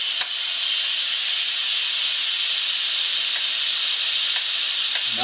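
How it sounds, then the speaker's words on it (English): Steady loud hiss of steam venting from a pressure cooker cooking sauerkraut with bacon in a home kitchen, a continuous broadband rush that holds level throughout with a few faint clicks. "So, it now needs to release the steam."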